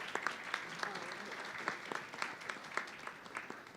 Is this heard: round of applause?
yes